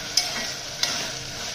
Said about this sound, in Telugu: పుదీనా కూడా మంచిగా మగ్గించుకోవాలి